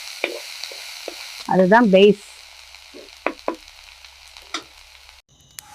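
Onions sizzle in a pan for a village-style goat intestine gravy, a steady hiss with occasional clinks and stirring scrapes, while a voice speaks briefly.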